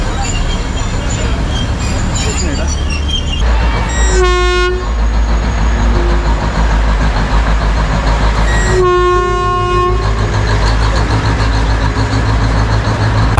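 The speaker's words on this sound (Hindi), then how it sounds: "वही यहाँ टॉय ट्रेन भी चलती है" The Matheran toy train on the Neral–Matheran hill line rumbles along continuously, loud and close, its horn sounding two distinct toots several seconds apart over the rolling wheel noise.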